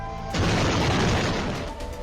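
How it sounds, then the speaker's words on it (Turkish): A wood stove explodes with a sudden loud boom, followed by a rumbling crash that slowly fades. "Soba büyük bir gürültüyle patladı."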